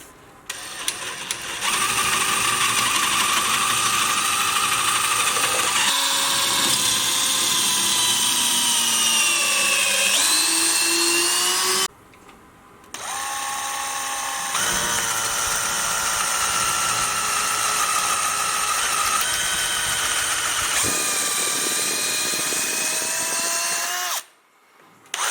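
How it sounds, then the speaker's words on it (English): A small drill bit bores holes in rubber bushings during a Dana 60 axle swap on a 1979 Jeep Cherokee Chief, giving a loud, sustained whine that shifts in pitch across two long runs separated by a short pause. "just to take a small drill bit and start drilling holes in the rubber"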